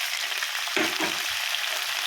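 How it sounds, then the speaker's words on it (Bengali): Potato, spiny gourd and green chili fry in hot oil in a wok, giving a steady, close hiss of sizzling with a brief scrape of stirring partway through. "এই আমি কড়াতে প্রথমে তেল দিলাম, তেলটা গরম হচ্ছে, ওর মধ্যে আমি কাঁচা লঙ্কা দিলাম এবং তারপরে আলু কাঁকরোলটাও দিয়ে দিলাম"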